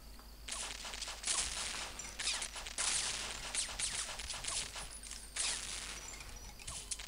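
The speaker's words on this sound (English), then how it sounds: "Okay, that's a shotgun." Shotgun fire in a video game, several sharp crackling blasts in uneven bursts, some overlapping, over a low steady hum with no talking.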